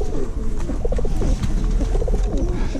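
White Omsk pigeons coo steadily at close range, a continuous run of soft, throaty rolling calls with no talk over them.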